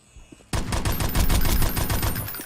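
Rapid bursts of automatic gunfire in the shooter game Desert Storm break out after a brief quiet moment, loud and continuous, with no voices over them.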